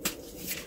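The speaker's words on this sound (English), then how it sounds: "So let's shuffle these up just a little bit" Tarot cards being shuffled by hand, a short close papery riffle and slide of cards at moderate level, with no talking.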